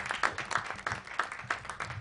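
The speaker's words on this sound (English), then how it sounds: "Ladies and gentlemen, please, with a round of applause, let's welcome Mr. Bento." Audience applause welcoming a speaker at a development-policy talk, heard as brief, fairly quiet clapping with a loose rhythmic pulse of distinct claps.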